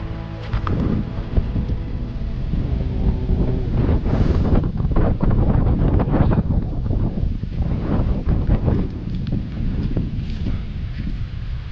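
Strong wind at the Goa Cikahuripan cave site buffets the microphone in a loud, continuous rumble with shifting gusts, and no voices are heard.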